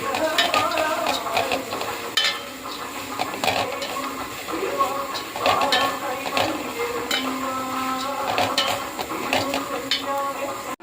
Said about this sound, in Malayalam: നന്നായിട്ട് യോജിപ്പിച്ച് ഇളക്കാണ് നമ്മൾ